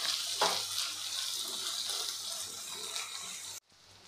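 Ginger-garlic paste sautéing in a pan for egg tikka masala, a steady bright sizzle and hiss running unbroken for several seconds before cutting off abruptly near the end, leaving quieter room tone.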